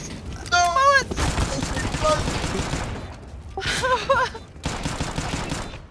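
Rapid bursts of video-game gunfire crackle in several volleys, mixed with excited shouting and gasping from players talking over it.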